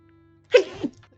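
A single sharp sneeze bursts out close and loud after a moment of quiet, followed by a brief trailing breath.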